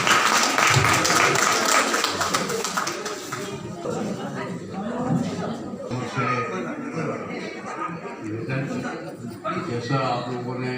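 Senior citizens at a Republic Day celebration clap loudly together for a few seconds. The applause then fades, and voices and chatter take over for the rest of the stretch.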